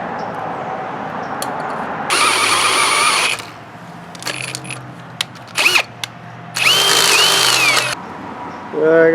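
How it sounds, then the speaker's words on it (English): A power drill boring a hole through a bent steel axle spindle during a roadside-style ranch repair, heard in two loud sustained bursts of whining drilling with clicks and clanks of handling between them. "I got the hole drilled through there."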